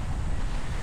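Wind and sea waves at the shore make a steady, full rumbling roar with constant low wash and gusty microphone buffeting, loud and unbroken with no voices.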